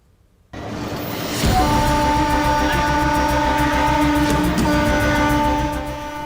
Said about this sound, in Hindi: आप रेलवे ट्रैक से गुजर रहे हों और तभी धड़धड़ाती हुई ट्रेन आ जाए